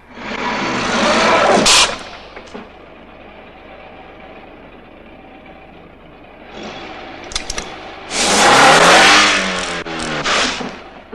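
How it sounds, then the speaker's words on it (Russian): A police sergeant's car engine revs and accelerates in bursts, loud at first, easing to a steady drone, then surging again with a strong roar near the end, with no talk over it. "Это машина нашего сержанта."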